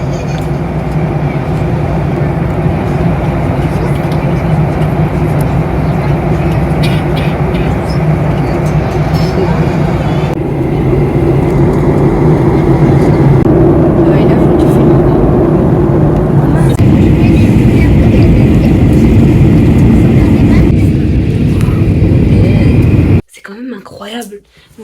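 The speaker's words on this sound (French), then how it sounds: "On est tous dans un petit truc qui vole dans les airs" Loud, steady engine drone and rushing air fill the cabin of a small airplane in flight, continuous for most of the clip before cutting away abruptly near the end.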